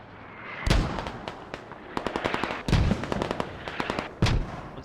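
Mortar impacts and gunfire in a competitive squad-based shooter video game: several heavy booming blasts spaced a second or two apart, mixed with bursts of sharp rapid shots, loud and fairly close.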